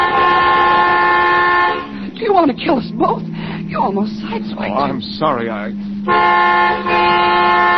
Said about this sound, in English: What are you honking now for?